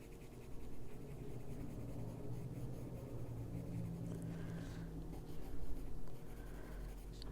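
A colored pencil shades paper in a coloring book, a soft, quiet, continuous scratching heard close up over a low background hum.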